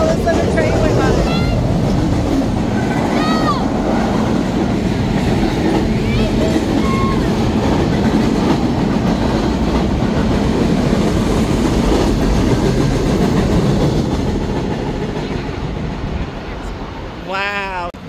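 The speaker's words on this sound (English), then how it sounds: "and all of a sudden a train went by" A train rumbles past steadily with rhythmic clickety-clack of wheels, loud and close, fading slightly toward the end as voices chatter faintly underneath.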